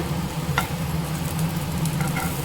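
Spices sizzle in hot oil in a pan for a raw banana kuzhambu, a steady close crackle with a low hum beneath and a few sharper pops, no voices.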